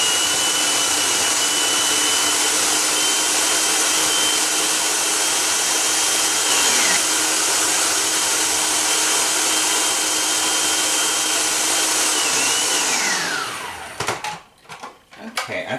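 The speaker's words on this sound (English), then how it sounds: "You can puree this if you want to a nice smooth dressing, or you can leave it kind of chunky." A blender purees bacon cheese dressing with a loud, continuous whirring whine that dips in pitch a couple of times as the load changes, then stops abruptly, leaving a few clunks at the end.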